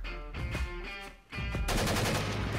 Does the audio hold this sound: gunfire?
yes